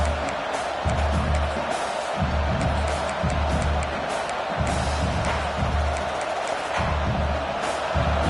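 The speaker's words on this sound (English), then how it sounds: "Listen to the crowd energy here in the early going. This is a tough environment for visitors." Steady stadium crowd roar fills a college football video game playoff matchup against Arkansas, a continuous loud wash of fans with low rumbling pulses rising and falling underneath throughout.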